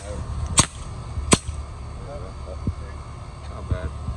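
Edgun Leshiy 2 air rifle firing, two sharp snapping cracks close together near the start, each a short broadband burst, followed by quieter handling noises over a steady low background hum.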